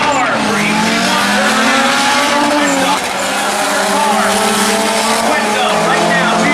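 A 1992 Honda Prelude drag racing at a dragway roars loudly and steadily, its engine pitch sweeping upward through gear changes with a brief dip midway, while a track announcer talks over it.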